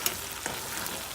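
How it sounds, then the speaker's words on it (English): Onions fry in a pan for a from-scratch gravy, a short burst of steady close sizzling with a couple of faint stirring taps and no voices. "You just want to cook these onions down a little bit till you get a little kind of cook them all the way through"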